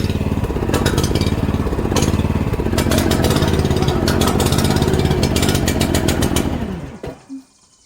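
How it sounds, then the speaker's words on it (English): Small garden engine running steadily right after its fuel tank was topped off, a loud close buzzing drone with rapid uneven firing that holds for about seven seconds, then sputters out and stops. "I topped off the fuel tank and it runs."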